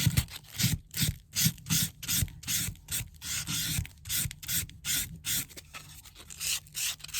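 Rhythmic back-and-forth rasping of sandpaper on an edge, about two strokes per second, close and steady throughout.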